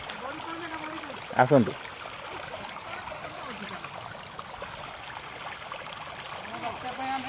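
Floodwater left by Cyclone Dana flows past with a steady, broad rushing wash, while someone talks over it and a brief bump sounds near the start.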